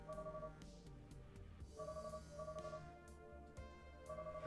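A phone in Katana Zero rings in a repeating electronic pattern, steady tonal trills in short bursts separated by brief gaps, quiet and clear with no talking over it.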